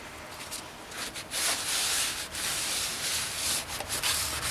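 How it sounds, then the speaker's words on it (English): A brake rotor on a 2003 GMC Sierra or Chevrolet Silverado 2500 being scrubbed clean, giving a harsh, uneven rubbing and sanding rasp in repeated strokes that swell and fade close by. "Just gonna clean up this rotor a bit."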